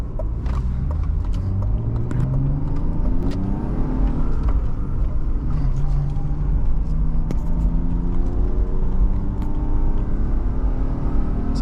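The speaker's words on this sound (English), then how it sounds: "So that's second gear up a really steep hill, full throttle, wide open." A 1997 BMW 320i Touring engine pulls hard at full throttle in second gear up a steep hill, its loud droning note climbing steadily in pitch, heard up close from inside the car.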